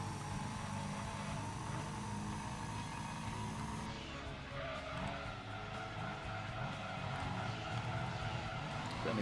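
A rally-style road car in the Muscle Car Cup of a racing video game slides and skids, tyre scrub layered over a steady loud engine drone that continues throughout with no pauses.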